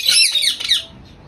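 Pet birds squawk and chirp in a loud, shrill burst of overlapping calls up close, fading to quiet after about a second.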